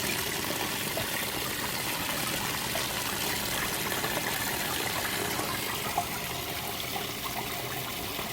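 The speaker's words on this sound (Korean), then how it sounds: "우리 야채 씻듯이 이렇게 해서 이제 씻어 놓습니다" Water runs and splashes steadily as Kingsberry strawberry seedlings are rinsed by hand on a strawberry farm, a continuous close wash with no voices.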